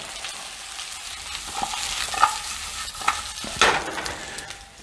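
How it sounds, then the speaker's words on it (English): Donair meat sautéing in a hot pan for a Halifax donair: a steady close sizzle with scraping stirs and a few sharper clatters, no voices. "I've got a hot pan, a bunch of meat, and we're going to saute this stuff up."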